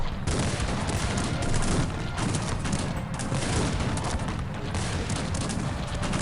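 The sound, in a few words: musket gunfire from video game Cossacks 3 battle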